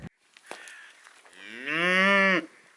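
A single long, loud moo from a dairy cow at a Kazakh yurt summer pasture in Mongolia, rising after a few soft grunts and ending abruptly, with no talk.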